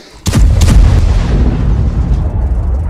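A tank cannon fires a single loud, close boom, with a second quick blast right behind it. A long rumbling decay trails off over the following seconds.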